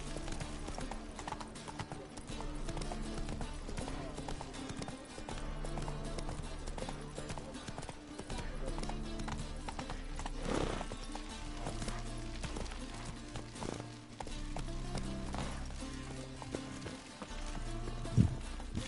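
Horse hooves clip-clopping in The Witcher 3, a steady, rhythmic beat of hoof falls running through the whole stretch, with occasional voices and game sounds mixed over it.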